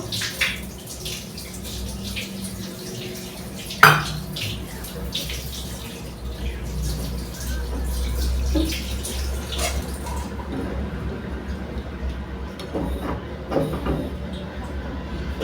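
Water is poured from a half-bowl into a grated mango and prawn mixture for steamed mango prawns, giving a steady, moderately close running-water sound with a brief clink near the start and no talk.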